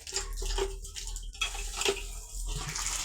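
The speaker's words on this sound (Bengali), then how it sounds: "ওই যে জল ভরতেছে" Water runs into a container at a village tap outdoors, a steady broadband rush with a low hum and faint splashes, fairly close, with no talk.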